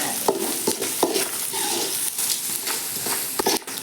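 Garam masala being stirred and fried in a pan, a steady sizzle with scraping spoon strokes every half second or so, close and loud, no voices.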